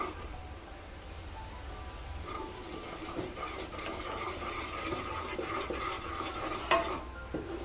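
Gram flour being stirred into hot ghee for Mysore pak, a steady scraping stir with a soft sizzle and occasional clinks of the ladle against the pan, close and continuous, with no talking.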